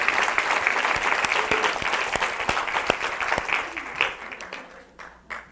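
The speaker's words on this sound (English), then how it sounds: "let's give them applause" Audience applause at a talk on face reading, dense clapping that holds steady and then thins out and fades over the last second or so.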